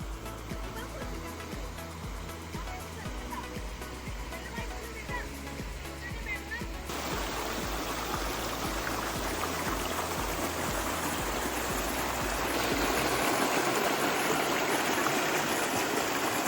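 A small waterfall stream at Ayn Athum in Salalah rushes steadily, growing louder and more broadband partway through as the flow nears, with a low rhythmic thumping and some voices underneath.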